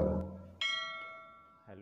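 A notification bell sound effect gives a single clear ding that rings on and slowly fades. A brief low tone comes just before it, and another short chime starts near the end.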